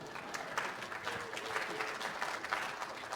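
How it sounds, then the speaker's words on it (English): Warm applause at an annual meeting welcomes the meeting secretary: a dense, steady clapping from a room of people that carries evenly through the whole stretch with faint murmuring underneath. "let's give him a warm welcome and a round of applause"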